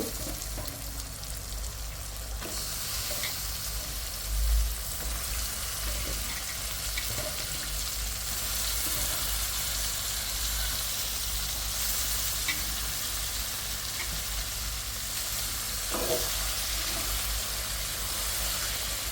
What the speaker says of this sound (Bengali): এই তো মাংসটা দিয়ে দিলাম